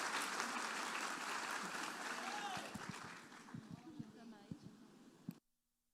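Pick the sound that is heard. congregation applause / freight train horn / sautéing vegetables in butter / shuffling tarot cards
congregation applause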